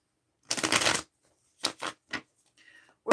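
A tarot card deck being shuffled, a close riffle of about half a second followed by a few short card slaps and taps, with no voices.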